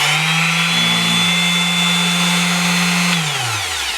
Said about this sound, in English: a very nice little sander that's already been being used quite a lot